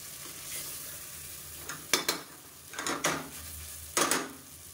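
Capsicum is sautéed with masala in a pan, making a soft sizzle broken by several sharp scraping stirs of a spatula against the metal, spaced a second or so apart.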